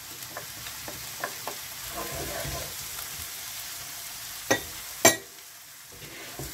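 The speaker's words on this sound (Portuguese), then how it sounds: "Vamos envolver bem." Seasoned potatoes with salt, turmeric and paprika are stirred in a pan, soft scraping strokes and quiet sizzling under a low hiss, with a few sharper clinks of the utensil against the pan toward the end.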